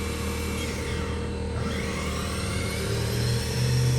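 A 2006 Haas VF-4B CNC vertical machining center with its spindle running at 7,500 RPM: a steady, fairly loud mechanical whir and hum, continuous throughout with no speech.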